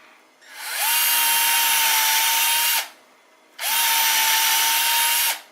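A power drill whirs at high speed twice, each run lasting a couple of seconds with a steady motor whine, loud and close, separated by a brief pause.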